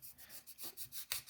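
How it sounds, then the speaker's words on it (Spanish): Fine-grit sandpaper rubbing over a small scale-model concrete barrier, a soft close scraping in short repeated strokes that swell and fade at an even pace, with one sharper stroke near the end. "voy a darle una lijada con esta lija de grano fino, solo para dejar la textura"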